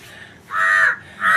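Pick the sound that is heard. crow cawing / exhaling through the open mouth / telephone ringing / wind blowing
crow cawing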